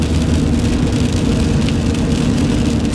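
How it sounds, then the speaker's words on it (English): Rain patters steadily on a car, a dense, even wash of drumming noise heard from inside with a low engine rumble underneath, loud and unbroken with no voices. "it's raining"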